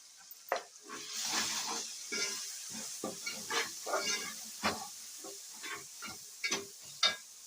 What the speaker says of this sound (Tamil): அதை நல்லா கிளறி விட்டுக்குவோம்.